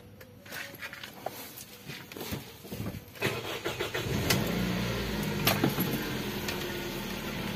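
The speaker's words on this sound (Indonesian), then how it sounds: "Coba kita matiin mesinnya dulu, kita nyalain lagi" A Toyota Vios with a cracked radiator is switched off, then clicks and cranks before its engine catches and settles into a steady, close idle.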